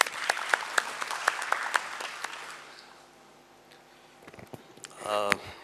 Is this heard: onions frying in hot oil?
no